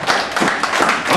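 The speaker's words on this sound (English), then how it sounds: "give a big round of applause to all our performers" Audience applause for performers at a ballet talent show, a dense, steady wash of many hands clapping close by, filling the whole short stretch without pause.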